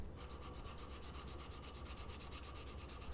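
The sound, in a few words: hand sanding katana guard with 220 grit sandpaper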